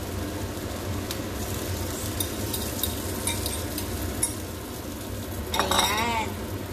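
Beaten eggs poured into a pan of sauteed bitter gourd and stirred, a low steady sizzle with light utensil clinks and scrapes, and a brighter burst of frying near the end.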